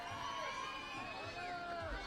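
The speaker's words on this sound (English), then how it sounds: "crowd right behind him here" Crowd noise from spectators cheering on a climber during a lead semi-final at the IFSC Climbing World Cup in Chamonix, a steady roar and shouts held under continuous commentary.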